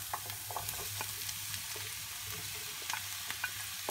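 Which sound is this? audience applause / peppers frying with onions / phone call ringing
peppers frying with onions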